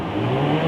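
A Toyota Crown engine revs briefly at high RPM with the door open, a steady close mid-range hum holding level for under a second.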